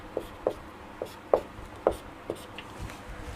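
Chalk or marker scratches on a board in short, crisp strokes, about eight quick taps and drags spaced roughly evenly, close and fairly quiet with no talk.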